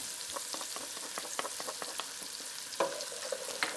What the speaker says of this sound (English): Now let me add my garlic.